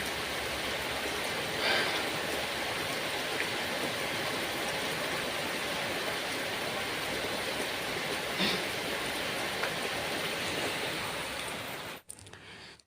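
Steady, dense rain falls outdoors as a continuous broadband hiss with no breaks, fairly distant and even in level across the whole stretch, with a couple of faint brief knocks.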